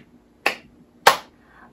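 Two sharp hand claps about half a second apart, crisp and close, at a preschool Sunday school church service, with no talk.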